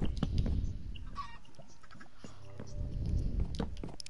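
Chickens clucking in the Minions-themed video game Minions 3, soft scattered clucks and fowl calls amid game noise, with people talking over them.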